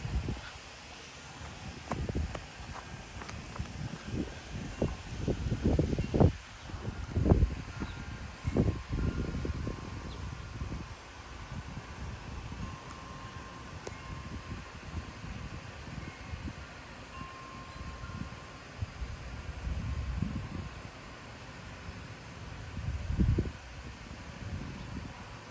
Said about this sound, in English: You can see the wind blowing over there.